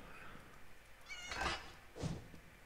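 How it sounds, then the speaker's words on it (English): A cat in the Elder Scrolls Online video game lets out two faint, short meows about half a second apart over quiet background ambience, with no talking. "Why was it meowing a second ago and I can't see it?"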